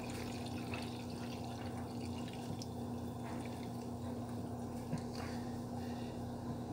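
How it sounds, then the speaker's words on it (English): Watermelon peel juice poured slowly from a juicer, a soft steady trickle of liquid over a constant low hum. "You just gotta pour it really slow."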